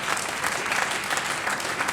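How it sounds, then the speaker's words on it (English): Audience applause fills a room at a cycling club awards night, dense continuous clapping from a crowd. "let's have a round of applause,"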